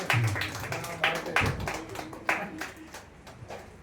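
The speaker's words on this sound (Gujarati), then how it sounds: "એમનું પણ આપણે સ્વાગત કરીએ તાળીઓ સાથે" A few people clap in scattered, uneven bursts to welcome a guest at a gathering, a light applause of separate hand claps close by that tapers off over a few seconds.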